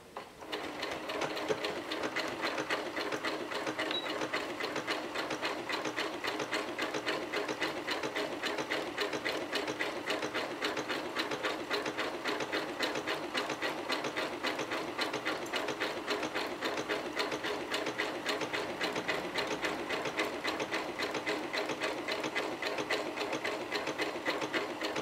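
A Janome 6700P sewing machine stitching elongated decorative stitches, running in a steady, fast, even mechanical rhythm close up for the whole stretch without pause.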